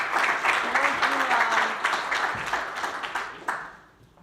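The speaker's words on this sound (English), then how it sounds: "Big applause." Applause from a conference audience at a big data plenary session, dense broadband clapping filling the hall for about four seconds, tapering off at the end, with faint voices underneath.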